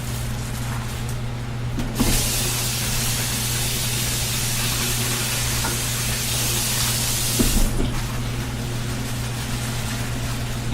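Running tap water rinses fresh bok choy from an Asian market, a steady broadband splashing stream that holds across the clip, with brief handling clatters near the start and toward the end.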